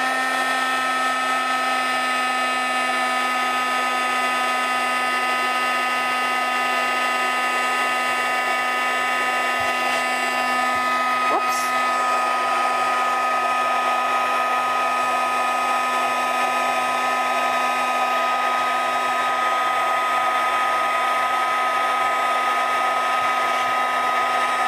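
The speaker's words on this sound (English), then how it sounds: "So sorry because of the noise the heat gun is gonna make." Electric heat gun used for craft embossing runs with a constant loud whirring blow and high whine, steady throughout with no talking.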